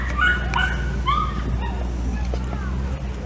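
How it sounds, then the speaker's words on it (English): A small dog yips and whimpers in short, high bursts near the start, then quieter whines over a low steady hum, at a classic car concours d'elegance in Chambly, Quebec. "that dog keeps barking"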